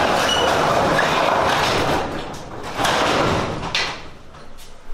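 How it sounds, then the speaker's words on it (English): A large door being opened in a warehouse that was a crime scene, a loud, rumbling slide with metallic rattling and scraping lasting several seconds and ending in a couple of sharper clunks, with no talking. "I'm gonna go open the door."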